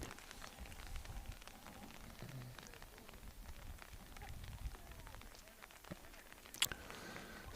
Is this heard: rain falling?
yes